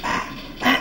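A small chihuahua barks in two short bursts, a brief bark followed by a louder one just after, sounding fairly close with no talk over it.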